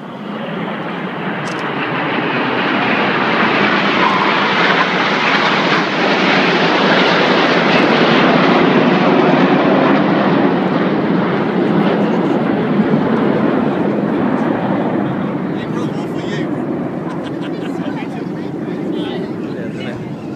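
Red Arrows display jets flying in formation over Torquay in 2013, a loud, steady engine roar that swells and holds for the full stretch, with voices faintly underneath.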